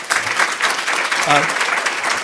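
A crowd claps during a swearing-in ceremony for a California Supreme Court justice, brief loud applause lasting a couple of seconds with a voice calling out briefly over it.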